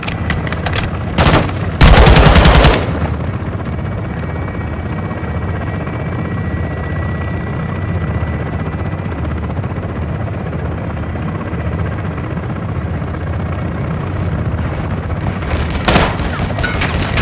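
Belt-fed machine gun fire in the video game Modern Warfare II, as loud short bursts that open the clip and return near the end, over a constant heavy helicopter rotor drone.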